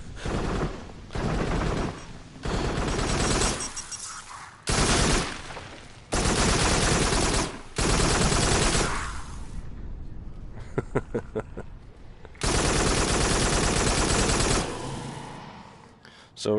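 Gunshots in the VR shooter Farpoint for PSVR blast in loud, sustained bursts of rapid fire separated by short pauses, with smaller clicks and mechanical sounds between the volleys.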